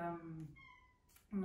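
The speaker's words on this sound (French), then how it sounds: "Vous allez entendre notre chat miauler." A pet cat meows once indoors, a short, clear, rising-and-falling cry heard close by between stretches of a talking voice.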